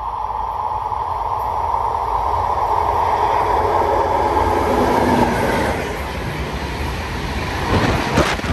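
A train roars through Anzola Emilia station without stopping, a loud, sustained rush of wheels and rail noise close by, with some clatter toward the end.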